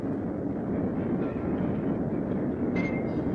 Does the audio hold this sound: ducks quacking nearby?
no